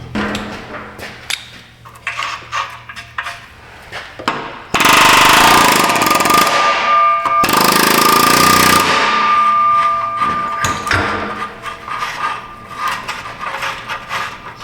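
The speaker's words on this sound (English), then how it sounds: "We're gonna rattle this a little bit with an air hammer, try to get it to just jiggle loose." An air hammer rattles loose exhaust parts under a 2003 Ford Thunderbird. It comes in two loud, harsh, rapid bursts at close range, separated by a brief pause, with clinks of tools and metal before and after.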